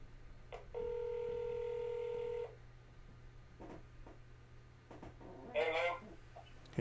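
Touch-tone keypad dialing a phone number, one long steady dual-tone press ringing out for nearly two seconds, followed by faint clicks and a brief chirpy burst over a low steady hum.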